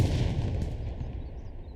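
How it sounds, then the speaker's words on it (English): Panzer IV tank cannon fire in the Hell Let Loose battle game, heard as a steady, dense low-heavy roar of distant gunfire and booms running through the whole moment without any voices. "Surely saw a Panzer IV shooting"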